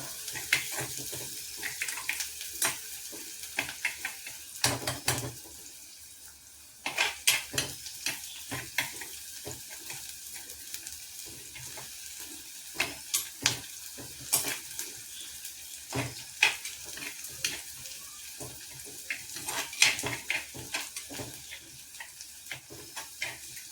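Small onions fry in a pan with a soft, steady sizzle, punctuated by frequent scraping and clinking of a spoon stirring against metal.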